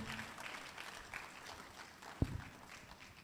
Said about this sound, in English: I think you deserve a better round of applause.